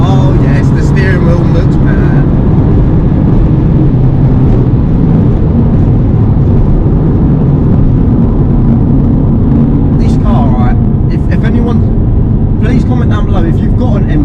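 A 405 bhp BMW M2 Competition roars loudly from the cabin while being driven hard toward the redline, a dense, sustained engine note with a voice briefly talking over it.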